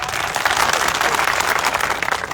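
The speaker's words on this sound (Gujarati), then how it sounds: "એકવાર જોરથી તાળીઓ પાડો." A crowd at a political rally bursts into loud, sustained applause, with thick, continuous clapping at a full, even volume and no voice on top.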